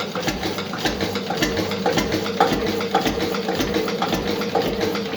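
Diesel engine starting cold without glow-plug heat after fuel lines were bled, settling into a steady, clattering idle with a rhythmic knocking pulse, close and loud, no talk.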